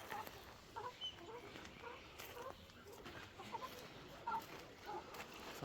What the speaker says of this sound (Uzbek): Qo'lga uyatilgan xonaki fazanlar.